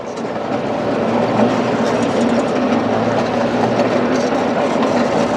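A slow tourist train rolls through open rice fields in Pathum Thani, its steady rumble and faint clickety-clack of wheels continuous and close throughout, with no voices.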